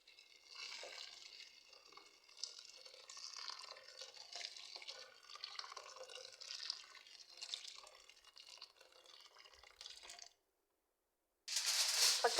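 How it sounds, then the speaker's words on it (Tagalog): Hot water is poured into a chicken mandi pot, a soft, steady trickle and splash for about ten seconds, then a brief pause before a louder burst of pouring near the end. "At lagyan natin ng mainit na tubig."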